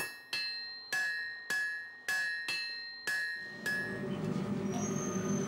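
A blacksmith strikes an anvil in a wrought-iron forge, seven evenly spaced ringing metallic blows with long bright decays, followed by a lower rumbling workshop clatter.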